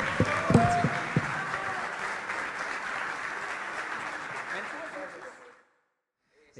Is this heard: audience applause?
yes